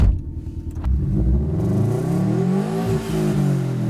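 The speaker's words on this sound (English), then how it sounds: "Can actually hear the exhaust." A Subaru engine and exhaust rumble low and close, with a rising, wavering revving tone that climbs and settles through the clip, heard alone without talk.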